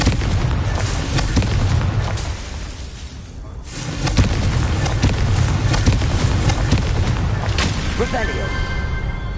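A Confringo explosive spell bursts in Hogwarts Legacy, a booming blast over a continuous roaring din, with a spoken voice heard amid the noise.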